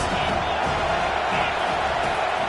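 A stadium crowd in a college football video game, Indiana at Penn State, keeps up a steady, dense roar of cheering behind the defense on a big third down, loud and unbroken throughout.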